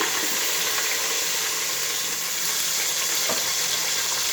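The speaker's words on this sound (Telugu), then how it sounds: "ముందు ఉల్లిపాయలు వేస్తున్నాను." Onions hit a hot pan and fry with a steady, bright sizzle that holds fairly loud and even over a few seconds, with no voices.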